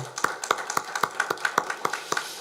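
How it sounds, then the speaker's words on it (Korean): A congregation at a Korean Sunday church service claps in a steady, even rhythm, roughly four claps a second, sharp and fairly close. "먼저 감사와 영광의 박수"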